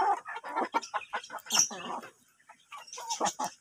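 Rooster and hens at a small home farm housed with a guineafowl, clucking and calling in several bursts at close range, with no talk over them.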